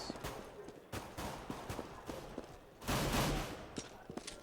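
Gunfire during a Counter-Strike: Global Offensive grand final match between NIP and Fnatic, heard as quick scattered shots and bursts in the game mix, fairly faint, with a denser louder burst midway.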